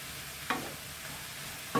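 Food fries in a pan greased with spray oil, a steady low sizzle with two sharp utensil knocks against the pan, close and alone with no talking.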